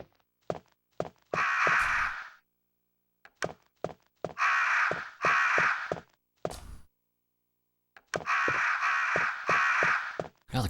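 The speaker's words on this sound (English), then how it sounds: "Yeah, the crows are making some noise." Crows cawing in repeated loud bursts, harsh calls clustered in groups with short pauses between, close by and alone with no talk.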